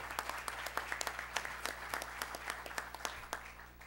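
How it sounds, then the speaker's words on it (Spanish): Applause at a public accountants' association talk in La Libertad, Peru, as a speaker is welcomed: a modest, fairly quiet patter of scattered hand claps from an audience, steady over a low hum. "Los aplausos entonces para el señor Carlos Paredes Reategui."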